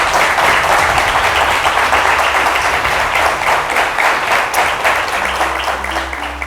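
An audience at a high school competition final applauds the two competing lycée teams, a loud, dense, sustained clapping that holds steady with a low rumble of room noise beneath.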